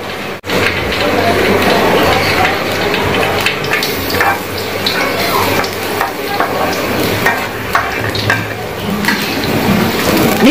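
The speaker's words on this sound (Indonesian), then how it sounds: "Ditumis dulu ya" Unripe banana pieces stir-fry in hot oil, a loud steady sizzle with scraping stirs and clatter of the pan, close up, with a voice speaking at moments.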